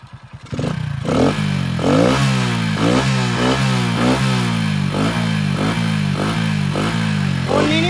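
A modified Hero Splendor motorcycle with big tyres is revved hard again and again, loud and close, each throttle blip rising and falling in a quick steady rhythm over a rough, clattering idle.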